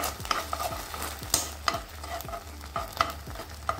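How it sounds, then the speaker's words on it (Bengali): Chicken satay sauce cooks in a wok, a spoon or spatula scraping and stirring in a steady rhythm of distinct strokes over a low, continuous sizzle, close and clear with no talking. "সসটা একটু রান্না করে নিচ্ছি।"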